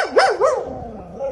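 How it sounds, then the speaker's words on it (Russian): A dog barks at a large rat in a residential courtyard, giving two loud close barks that trail off into a whine. "Собака лает и пытается прогнать грызуна."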